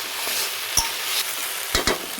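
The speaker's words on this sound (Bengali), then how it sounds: "আমি একটু নুন দিয়ে দেবো। নিয়ে ভালোভাবে একটু নাড়াচাড়া করে নেব।" Drumsticks fry with salt in a pan, a steady hiss broken by a few quick stirring scrapes, heard up close with no one talking.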